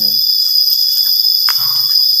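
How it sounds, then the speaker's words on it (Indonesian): Crickets chirping in a quiet bamboo grove deep in untouched forest, a steady high-pitched trill running throughout, with faint low murmurs and a brief rustle partway. "apa sih nama suara ini, kayak seperti kayak jangkrik"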